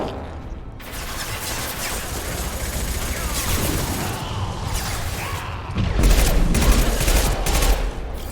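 Heavy weapon gunfire in a video game, sustained rapid bursts with crashing impacts that swell louder near the end, under a dense chaotic battle mix.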